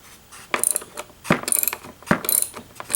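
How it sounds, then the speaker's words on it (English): Ratchet wrench with a 14mm socket clicking in three quick bursts of rapid pawl clicks, working on a Ryobi leaf blower ignition coil; close and clear with no talking. "14mm socket"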